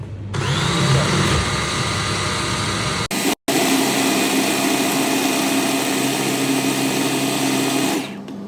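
Restaurant food processor (cutter) whirring loud and steady as it blends lemon juice, egg yolk, garlic and mustard for Caesar sauce, briefly cutting out, then running on high before stopping.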